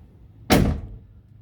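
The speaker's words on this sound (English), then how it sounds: "Back up, show you how the door closes" A DIY security trunk door on a 2024 Jeep Wrangler closes with a single loud, near thunk that fades within a fraction of a second over quiet background.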